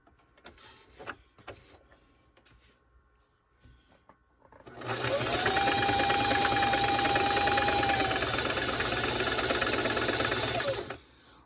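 A sewing machine back stitches along the fabric edge of a homemade catnip kicker, starting with a few faint clicks and handling noises, then running in one steady, loud, close mechanical whir for about six seconds before stopping.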